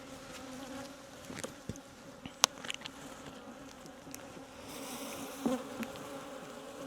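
Native Korean honeybees buzz in a hive during a January spring wake-up, a steady close drone with a few sharper taps and knocks scattered through it.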